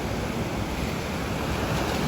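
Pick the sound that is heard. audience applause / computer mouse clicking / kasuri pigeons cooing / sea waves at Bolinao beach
sea waves at Bolinao beach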